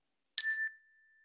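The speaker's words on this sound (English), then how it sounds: "I'll invite the bell to bring us to an end." A single meditation bell struck once at the close of a guided group meditation, a bright clear tone that rings out alone and fades smoothly over under half a second.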